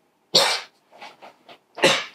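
A person coughs during a board game session: a sharp, forceful cough, a few softer breathy rasps, then a second strong cough, close and loud in an otherwise quiet room.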